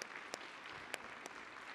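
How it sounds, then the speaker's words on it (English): A church congregation claps for its praise team after worship, a full, sustained round of applause with a few sharper claps and brief shouts popping out above the steady patter. "Let's give our praise team a round of applause."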